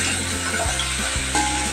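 Tomatoes fry in a spiced tempering for dal dhokli, giving a steady close sizzle with faint scraping and stirring sounds.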